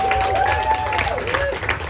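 Audience applause at an ocean protection event, a dense wash of clapping under a voice that carries on speaking over it.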